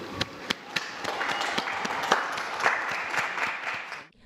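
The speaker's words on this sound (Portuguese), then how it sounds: "Uma salva de palmas a todos os avós" Applause for all grandparents rises from a large gathering, with distinct near claps popping over a broad crowd clapping, then cutting off abruptly at the end.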